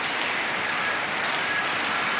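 Steady rain falling on a stormy day, a dense even hiss of drops on surfaces that holds constant throughout, fairly loud and with no voices.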